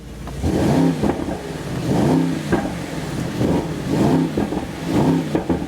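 A Mercedes SL 55 in Sport Plus mode with the active exhaust open revs in four strong, evenly spaced blips over a rumbling idle, loud and close, with no voices.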